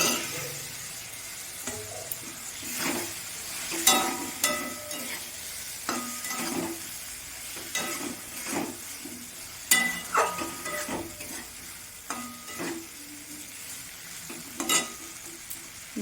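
Potato pieces fry in oil with a cooked-down spice masala while being stirred, a soft continuous sizzle broken by repeated scraping and clanking strokes of the spoon in the pan, close up and without talk.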